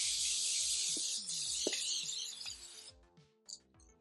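A steady hiss of aerosol hairspray on a wig runs for about three seconds and then cuts off, followed by a couple of short spurts.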